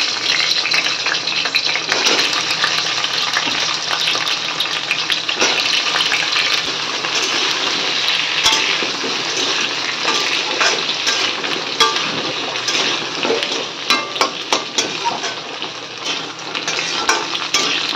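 Diced potatoes fry in hot oil with bay leaves and whole garam masala in a pan, a loud steady sizzle broken by scraping stirs, with no talking.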